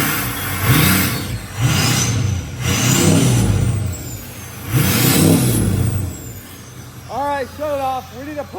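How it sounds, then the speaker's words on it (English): A 6.0 Powerstroke diesel truck with a loud exhaust revs several times in surging roars close by, then settles into a rumbling idle while a person speaks. "Go rev it up for Ethan."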